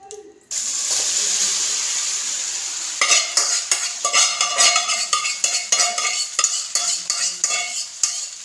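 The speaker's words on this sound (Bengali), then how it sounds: "লাল লাল করে আলুটা ভেজে নিয়েছি। এবারে এই ডিমের এই মানে সয়াবিনের এটা যেখানে দিয়ে দেবো।" Potatoes and soya chunks frying in oil in a pan, a loud steady sizzle that turns into repeated scraping and clinking as a utensil stirs them, close up.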